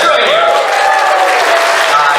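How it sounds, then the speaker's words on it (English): Live audience applause at a stage talk, a close, dense and even patter of many hands that stays at a steady level from start to finish, with a voice faintly mixed in. "That deserves a round of applause."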